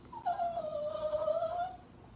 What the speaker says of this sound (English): that's my dog whining for attention